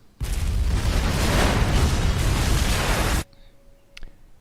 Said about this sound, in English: So the explosion most likely got triggered by the TV remote which Ray had and Clapp stole.